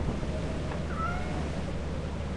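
A cat meows in the video game Lethal Company, a short faint mew over a steady loud hum of game ambience and noise.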